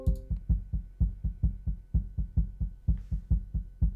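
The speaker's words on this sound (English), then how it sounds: "Oh, what is this heartbeat?" Steady, rhythmic heartbeat sound effect in the Risk Global Domination video game, about sixteen deep thumping beats in four seconds, loud and alone without talk.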